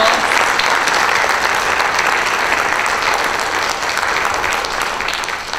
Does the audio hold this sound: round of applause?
yes